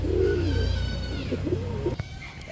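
Pigeons at a pigeon seller's, among a large new batch of about 400 birds including Pakistani teddy, Rampuri, red gorra, kaldom and racer breeds, give brief low cooing murmurs close by, with faint rustling.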